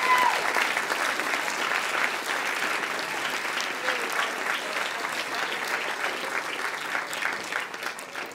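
Sustained applause from a band banquet audience honouring senior scholarship winners, many hands clapping evenly at moderate volume for several seconds without letup.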